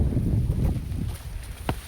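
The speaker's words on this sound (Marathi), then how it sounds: "काही जोरदार पाऊस आलाय सोबत वारा आलाय" Strong wind buffets the microphone with a low, roaring rumble, heavy monsoon rain and gusts blending into a steady outdoor din during a steep trek up Mahuli Fort.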